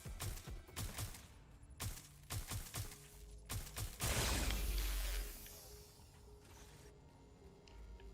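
Gunfire in the video game Watch Dogs: Legion, a string of sharp, loud shotgun blasts in quick succession, followed by a heavier booming burst with a whooshing rumble that slowly fades into low background noise.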